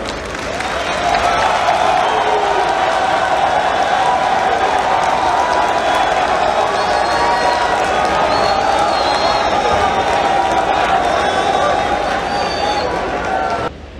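A crowd at a Gabonese political youth gathering in 2015 cheers and applauds steadily for a speaker being welcomed, a dense, loud wall of clapping and voices sustained throughout.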